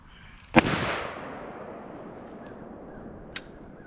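A single handgun shot at a shooting range: one loud, sharp crack close by with a reverberant tail fading over about a second, then a fainter distant pop near the end.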